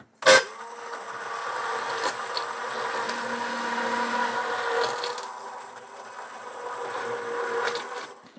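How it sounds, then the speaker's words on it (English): Immersion blender whirring in a container of tincture, a sharp start followed by a sustained motor hum with slight rises and dips in pitch over several seconds. "I'm going to put the immersion blender in there, make sure all the tincture and everything is fully mixed"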